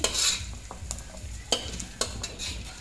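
Vegetables frying in a little oil in a pan, a close hiss with a few sharp scraping strokes of a stirring spoon at irregular intervals over a brief stretch.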